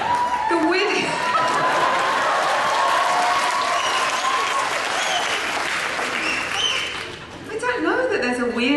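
Enthusiastic applause from a convention panel audience at Dragon Con, a loud, sustained crowd clapping with scattered chuckles and whoops, then fading as a voice speaks near the end.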